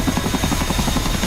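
Chinook twin-rotor helicopter in a video game, a steady rhythmic blade thump pulsing about every tenth of a second over a constant engine drone, close and loud with no talking.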